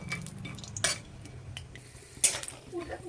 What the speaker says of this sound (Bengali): এটা কাঁচা বাদাম, তাই আমি একটু আগে বাদামটাকে ভেজে তুলে নেব।